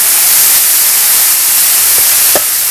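Frozen broccoli and peas hit a hot wok that has just cooked chicken, giving a loud, continuous steaming hiss that fills the whole moment, close and unbroken.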